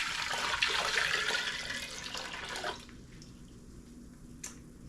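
Half a gallon of water pours steadily into a container for a smoked turkey brine, a loud close rushing stream lasting about three seconds before it stops, followed by a faint drip.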